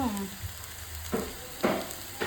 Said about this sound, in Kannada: ಹಾಗಲಕಾಯಿ ಸ್ವಲ್ಪ ಎಣ್ಣೆಯಲ್ಲಿ ಫ್ರೈ ಆಗೋದಕ್ಕೆ ಬಿಡೋಣ.